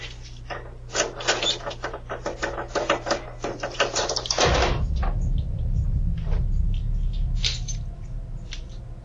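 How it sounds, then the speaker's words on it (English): An attic entrance door swinging open by itself in a house, a series of clicks and knocks followed by a low, sustained groaning creak that hums on for several seconds. "the attic entrance suddenly swings open on its own"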